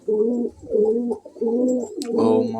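Pigeons coo outdoors in a steady rhythm of low, rolling calls, four close, loud phrases in a row, with a brief scratch near the end.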